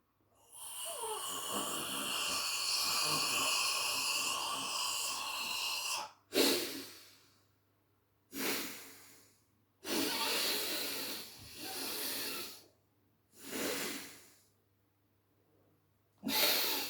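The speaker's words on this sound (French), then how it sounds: "je calme ma respiration" Slow, calm mindful breathing close to the microphone: a long, hissy exhale followed by several separate breaths spaced a few seconds apart, each rising and fading, with quiet pauses between.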